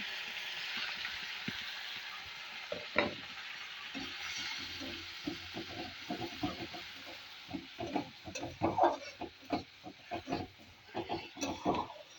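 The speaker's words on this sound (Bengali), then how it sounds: "পেঁয়াজটা ভাজা হবে" Onions fry with black cumin in a pan, a steady sizzling hiss with scattered stirring scrapes and clatters that grow busier toward the end.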